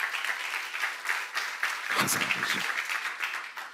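A church congregation breaks into applause during a sermon, a dense spread of clapping heard under a preacher's voice, with a short deeper thump partway through.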